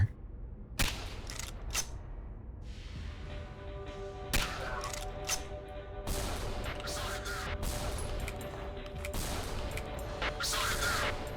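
Bursts of gunfire in the video game Labyrinth of the Demon King, sharp repeated shots scattered across the passage with a steady background of game sound and occasional talk.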